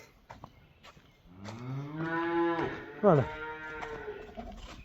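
Two large German-breed cows moo twice, long and low then a shorter call, close by over quiet background sounds.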